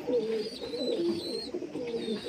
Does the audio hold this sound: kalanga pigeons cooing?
yes